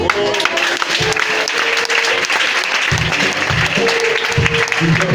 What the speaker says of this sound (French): Est-ce que tu peux acclamer ton Dieu?